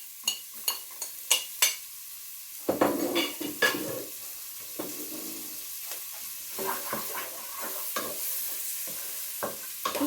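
Chopped onions are tipped into melted butter in a pan, opening with a few sharp clicks of a utensil, then a steady soft sizzle with intermittent stirring scrapes and taps, close by.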